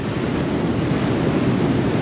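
Sea waves on the Spanish coast beside a pedestrian path make a steady, broad wash of surf, close and fairly loud, with some wind noise and no voices.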